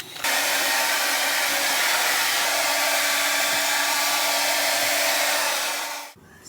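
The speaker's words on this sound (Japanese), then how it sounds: "じゃあとりあえずドライヤーしやす。" A hair dryer runs inside a camper van, a loud steady whooshing roar. It switches on at the start and holds for about six seconds before cutting off.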